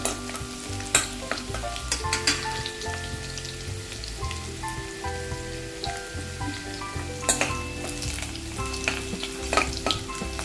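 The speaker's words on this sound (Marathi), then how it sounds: "लसूण थोडीशी ब्राऊन करून घ्यायची करपवायची नाही" Garlic sizzles and crackles in hot oil while being browned for a Malvani black pea curry, a steady frying hiss with occasional sharper pops and faint scraping, while a soft tonal hum runs underneath.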